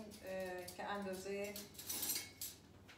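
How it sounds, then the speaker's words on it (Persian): Metal spoon and cutlery clink against dishes while stuffed cabbage is prepared, several close bright clatters and rattles with a soft voice nearby. "یه دونه قاشق برمیدارم"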